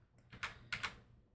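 Typing on a computer keyboard while building a C compiler: a few quick clustered key clicks in two short bursts, close and fairly quiet, with no talking.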